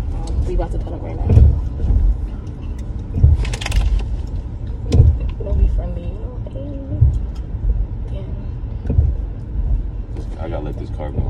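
A car on a night street rolls past nearby, its engine and tire noise rising and fading beneath steady close conversation between several people.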